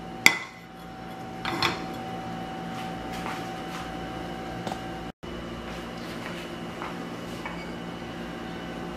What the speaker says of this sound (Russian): Берем сковородку. We take frying pan.